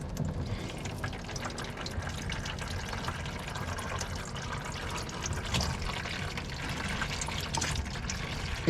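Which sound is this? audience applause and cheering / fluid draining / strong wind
fluid draining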